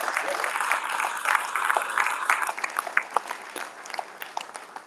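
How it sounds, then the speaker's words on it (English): Audience applause at a fraternity chapter monument dedication, a steady patter of hand claps lasting several seconds with voices mixed in, thinning toward the end. "I think that deserves an applause."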